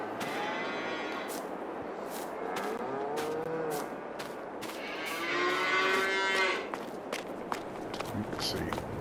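Dairy cows in the farming video game Farming Simulator 22 moo repeatedly at moderate distance, layered over hoof footsteps and a low ambient bed, with a person talking over them.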